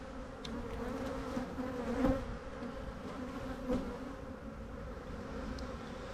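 Honeybees buzz steadily around a hive frame holding drones, stores and nurse bees, a continuous close droning hum that rises briefly twice, with no voices.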